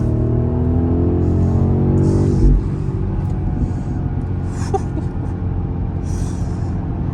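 A BMW X7 M60i accelerates hard through morning traffic, its engine droning in a steadily rising, held gear for about two seconds before an abrupt shift drops it into a lower, steady road rumble, heard loud and close from inside.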